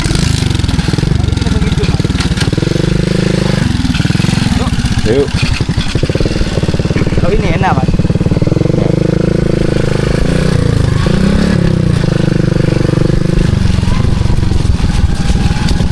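A motorcycle engine runs loud and close on a mountain hiking trail to Argopuro via Baderan, revving and throbbing steadily throughout while people talk briefly over the noise.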